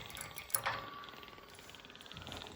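Water drains from a radiator into a bucket, a faint steady splashing trickle with a small gurgling burst early on, quiet and continuous with no talk.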